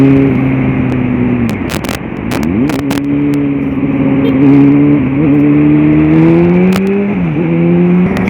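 Honda Hornet 600 motorcycle pulling hard from close by, its engine note climbing steadily through several gear changes with brief dips between shifts, loud and continuous with no voices.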